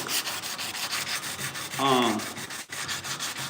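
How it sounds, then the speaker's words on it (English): Hand sanding with 180-grit on Scotch-Brite over epoxy-primed metal on a 1968 C10 grille shell makes a rhythmic series of close, scratchy back-and-forth rubbing strokes, with a brief squeak partway through. "So now I'm sanding it with 180 on this piece of Scotch-Brite."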